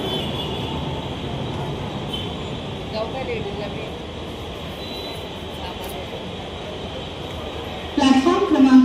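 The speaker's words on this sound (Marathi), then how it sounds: "ट्रेनसुद्धा आले." A Mumbai local train pulls into the platform at Ghatkopar station, a steady broad rumble and hum that grows into louder clattering near the end, with faint voices mixed in.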